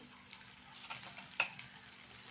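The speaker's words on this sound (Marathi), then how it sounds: "भाजून घेते तर आपला कांदा ना लालसर झाला आहे तर जरा मी आता याच्यात लसण टाकते" Chopped onion browned in a pan with garlic just added for a homemade pasta sauce, giving a steady soft sizzle and frying crackle with one brief sharper tick, heard alone with no talking.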